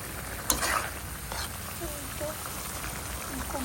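Onion frying in a pan during a Bengali home cooking session, a steady soft sizzle with a sharp crackle as it lands, under faint background noise and brief talk.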